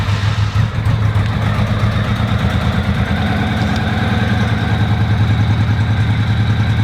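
A 1985 Honda Shadow motorcycle idles with the choke on, a steady, loud, close-up engine rumble with a fast even pulse and some mechanical clatter.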